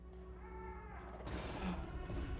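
A Loth tiger, a large cat-like creature from the animated series Star Wars: The Bad Batch, gives a low, quiet snarl and growl, rising into a rougher, louder cry partway through.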